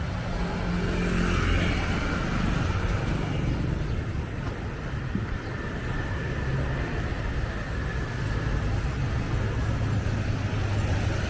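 Street traffic in Vietnam with motorbikes streams past in a dense, continuous roar of engines, with passing vehicles swelling and fading nearby and no talking.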